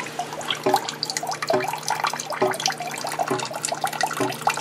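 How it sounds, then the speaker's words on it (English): Water drains from an old cistern tank through a cut pipe, a steady gurgling splash with regular dull knocks about once a second, close by and fairly loud. "Most of the water's coming out of that tank. That's what that funny sound is."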